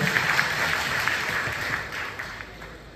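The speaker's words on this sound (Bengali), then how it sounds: "আমরা আরেকটু করতালি দেই ওদেরকে" An audience claps for award winners at a school science fair in Moulvibazar, a dense, fairly loud wash of applause that fades slightly toward the end.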